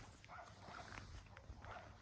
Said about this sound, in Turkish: Bakın bizim köpekler bağırıyor orada.